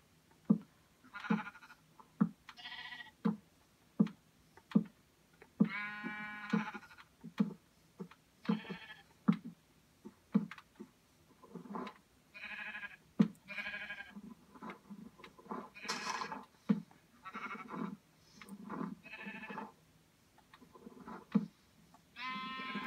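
Sheep in vanilla Minecraft bleating repeatedly in a pen, short wavering baas recurring every second or two over the whole stretch, mixed with regular soft clicking ticks, moderately close and clear.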